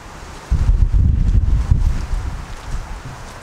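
Strong wind buffets the microphone outdoors in Aldingbourne, with a sudden low roaring rumble that starts abruptly, then gradually eases off.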